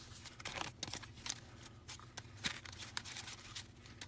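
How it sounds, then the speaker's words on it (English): Playing cards from a Monarch deck are shuffled by hand, with quiet, quick papery riffles and flicks and a few sharper snaps, faint and close, with no talk. "We'll try and get a good shuffle."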